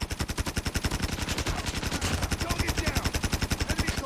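A PP Bizon submachine gun fires full-auto in Call of Duty Mobile, a steady rapid stream of punchy shots lasting the whole stretch, loud and up close, with a voice faintly underneath.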